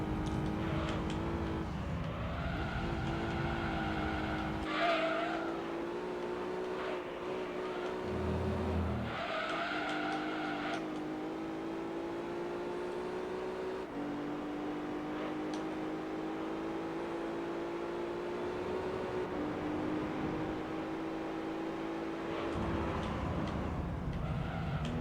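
A Renault Clio race car in the Gran Turismo 3 video game drives continuously, its engine droning steadily with rising and falling pitch through gear changes and brief tire squeals.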